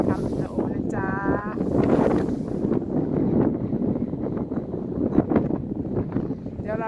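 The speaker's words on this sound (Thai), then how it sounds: "ลมแรง" Strong wind roars steadily outdoors as a continuous broadband rush buffeting the microphone, with a brief voice-like tone rising over it early on.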